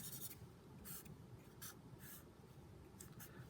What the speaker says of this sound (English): just to draw them the same